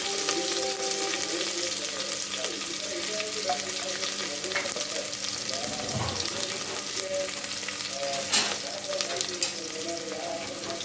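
Crushed onion, garlic and curry leaves fry steadily in hot oil in a home kitchen pan, a continuous close sizzle with occasional stirring scrapes and no voices.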